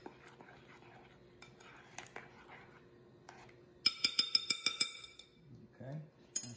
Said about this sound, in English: So now let me give this all a quick stir.